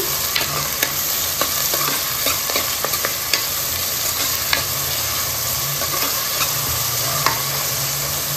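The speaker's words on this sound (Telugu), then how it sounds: "మళ్ళీ పచ్చిమిర్చి కూడా వేసేసుకుందాం. కొంచెం కరివేపాకు. ఇది బాగా ఫ్రై చేసుకోవాలి." Green chillies and curry leaves fry with onion pieces in a pan for goat head curry, a steady close sizzle broken by sharp clicks and scrapes of stirring.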